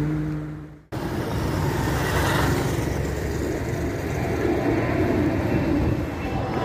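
Steady roar of road traffic nearby at night in Jaboatão, Brazil, engines and tires rushing past continuously after a brief quieter start.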